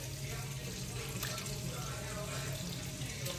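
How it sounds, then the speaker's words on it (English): Water runs into a cooking pot while pork chops, mash and cabbage are being made, giving a steady, close splashing pour with a constant hiss from start to end. "I'm gonna put like a little water in there."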